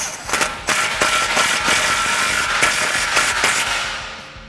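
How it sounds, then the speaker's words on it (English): Impact gun fitted with a 16mm socket on a 3/8 drive snugging an exhaust clamp on a 2009-2018 RAM 1500 5.7L, loud rapid hammering bursts close by, stopping and starting several times. "We'll take our 16mm on our 3/8 gun here, and I'll just snug up our clamp."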